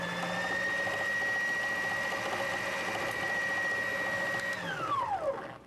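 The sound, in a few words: NC2000 carpet binding machine sewing a chain lock stitch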